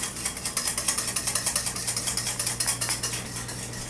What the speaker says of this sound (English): I'm going to eyeball it here and whisk that together.